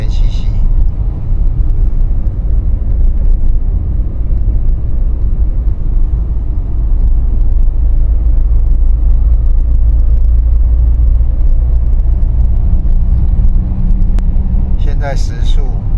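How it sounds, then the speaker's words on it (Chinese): Steady, loud low road rumble of a 2006 Hyundai 2000cc diesel car cruising through the Hsuehshan Tunnel near Taipei, a continuous enclosed drone heard from inside the cabin, with a person talking over it. "现代汽车柴油车2000cc。"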